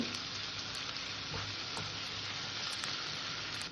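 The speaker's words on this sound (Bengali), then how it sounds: "এবার এখানে আদা রসুন বাটা দিয়ে দিলাম এটাকে আমি হালকা করে ভেজে কষে নেব" Ginger-garlic paste sizzles steadily in a hot pan while cooking for a prawn curry with cauliflower and potato, a close, continuous frying hiss with a few soft stirring scrapes and no talk.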